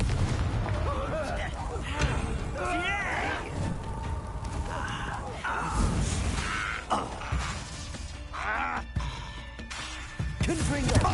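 Repeated fiery Confringo spell blasts in Hogwarts Legacy combat, loud bursts recurring through busy battle noise with a voice speaking over the fight.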